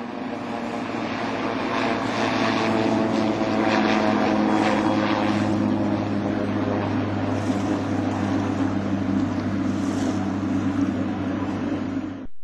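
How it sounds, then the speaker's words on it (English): Airfish-8 wing-in-ground craft in flight, powered by a 540 horsepower V8 car engine driving two fixed-pitch propellers, giving a steady loud droning hum with a low tonal engine note that holds throughout, no speech. "AF-8 does not create any wake and has a low noise level comparable to a race car in flight."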